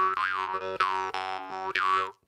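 A jaw harp plays a short run of twangy, buzzing notes with a steady drone and rhythmic vowel-like swells, several quick plucks over about two seconds, close and moderately loud before stopping abruptly.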